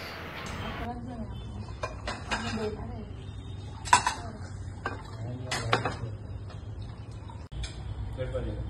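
Dishes and cutlery clink intermittently inside Aatithya veg restaurant in Pune, sharp plate-and-spoon taps scattered over a low room hum while people chat nearby.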